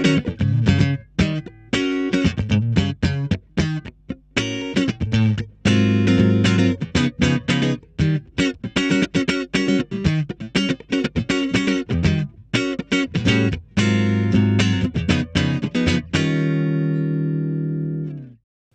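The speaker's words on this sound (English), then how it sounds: "And that's with the compressor on." Electric guitar strummed in quick rhythmic chords with an even, squeezed dynamic, ending on a held chord that rings out and fades.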